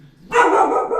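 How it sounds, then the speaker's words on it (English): A pet dog gives a single loud, close bark that rings on for a moment, heard alone. "That's my dog."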